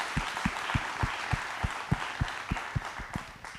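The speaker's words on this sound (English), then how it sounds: "Let's give him a round of applause." An audience claps in a steady, evenly spaced rhythm at a talk with a social bicycle entrepreneur, sharp distinct claps sounding close over a faint crowd wash, no voices on top.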